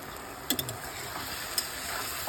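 Ripe pointed gourd (potol) fries in a pan and releases its water, making a quiet, steady sizzle broken by a few soft taps of a spatula.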